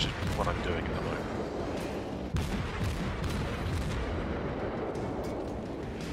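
Warship guns ripple firing in the World of Warships video game: heavy booming shots in quick staggered succession over a dense, continuous rumble, loud and close.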